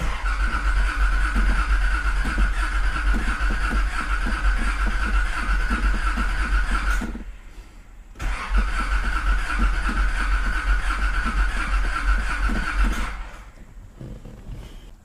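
Nissan Z engine cranking without catching, a loud, steady starter churn that runs for about seven seconds, stops briefly, then cranks again for several more seconds before cutting off, no voices.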